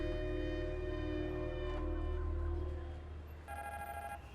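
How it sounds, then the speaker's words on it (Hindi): A telephone rings with a steady electronic tone that holds, then shifts to a higher repeating pattern, heard under a low hum and background drone with no talk over it. "नहीं, फोन मत उठाना, ये लड़की का फोन होगा।"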